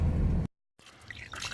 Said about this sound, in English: got air coming out, or air pushing water out